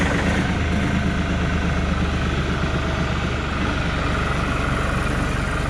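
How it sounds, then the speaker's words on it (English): A farm tractor engine runs loud and close, holding a steady, rough low idle throughout with no voices over it. "So we get the tractor started up."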